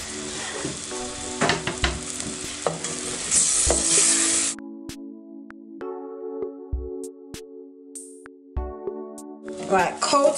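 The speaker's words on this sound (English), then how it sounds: "saute until the onions are soft. Once the onions are soft, add your okra pieces." Onions and okra sautéing in butter for a callaloo dish, a steady close sizzle with scraping stirs, under a backing of sustained musical tones.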